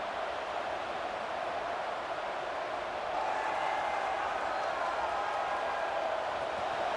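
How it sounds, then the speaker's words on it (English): Stadium crowd in a college football video game, a broad continuous roar of noise filling the space, steady and loud with a slight swell partway through. "It's early, but this crowd is fired up. Listen to this noise here."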